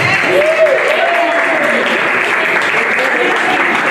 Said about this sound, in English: Big round of applause for it.